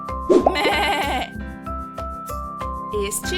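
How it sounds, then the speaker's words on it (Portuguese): A single farm goat gives one long wavering bleat near the start, heard over bouncy children's music with a steady, regular beat that continues afterward. "Este é o som da cabra, que vai berrar de novo."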